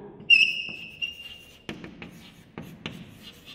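Marker or chalk writing on a board in a maths lesson, a squeaky stroke followed by several short taps and scratches at close range.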